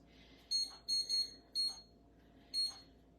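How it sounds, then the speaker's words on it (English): A kitchen timer beeps in short, shrill bursts, five in all with uneven gaps, fairly loud and clear over a faint room hum while a ham and egg brunch braid bakes in the oven. "And set the timer for 25 minutes."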